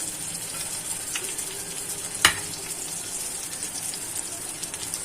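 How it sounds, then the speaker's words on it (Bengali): Onions and green chillies sizzling in a pan as potatoes go in, a steady hiss with one sharp clatter partway through. "পেঁয়াজটা ভাজা হয়ে গেছে, এবার আলুটা দিয়ে দেবো।"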